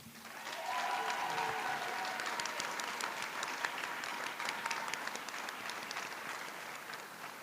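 An audience applauds the faculty co-directors of an annual college fashion show, a steady crowd of clapping that builds quickly and holds for several seconds at moderate distance with no speech.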